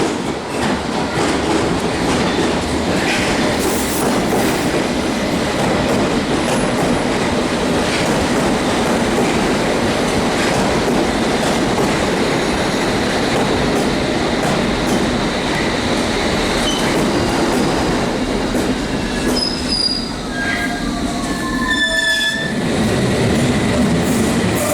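A London train rumbles and clatters along the rails on the Underground, loud and continuous from inside, with rhythmic wheel clicks and brief high squeals of wheels near the end.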